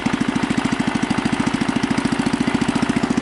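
A Husky 600 engine chugs at low speed while creeping in first gear, a loud, steady, rapid pulsing beat held evenly throughout, close by with no voices.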